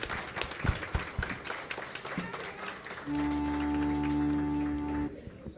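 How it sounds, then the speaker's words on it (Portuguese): Audience applause in tribute to a poet at a musical evening, clapping of moderate loudness that gives way to a sustained instrumental tone in its second half. "Eu peço de pé uma salva de palmas para Zé Laurentino"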